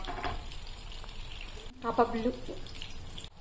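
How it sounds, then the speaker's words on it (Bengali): Chapli kababs shallow-fry in oil with a soft, steady sizzle and light crackle, close by, and a voice briefly speaks over the cooking. "এটা শ্যালো ফ্রাই হবে, কত সুন্দর লাগছে দেখতে।"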